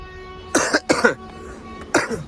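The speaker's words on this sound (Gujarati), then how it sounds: "ઉધરસ તો થઈ ગઈ છે મને" A few harsh coughs close to the microphone, two quick ones together, then a third after a short pause.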